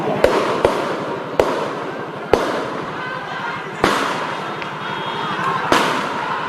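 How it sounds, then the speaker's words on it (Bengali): About seven sharp gunshot cracks ring out at irregular intervals during a tense street standoff near the Central Shaheed Minar, each bang cutting through a continuous background din of crowd noise. "উপর্যুপুরে গুলির শব্দ আমরা পাচ্ছি।"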